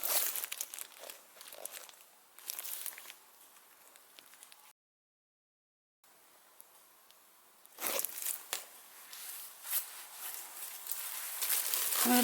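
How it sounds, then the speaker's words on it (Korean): Food-grade plastic sheet crinkling and rustling as it is laid over fermenting doenjang, loud close crackles in bursts with a short silent gap midway. "식용 비닐을 된장 위에 덮고"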